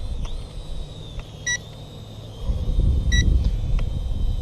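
Short electronic beeps come from a DJI Mavic drone outdoors on a windy day, two brief bursts over a steady hum, with wind rumble swelling near the end.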